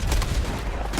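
Gunfire in a Red Dead Redemption 2 shootout, a brief burst of booming shots with a heavy low thump near the start, loud and close, with no talk.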